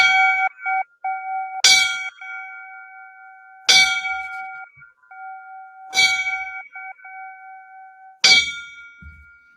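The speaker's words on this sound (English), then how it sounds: "We give him the 5 bells right now" Five loud, evenly spaced fire service memorial bell strikes ring out about two seconds apart, each clanging sharply and decaying with a steady ringing tone beneath.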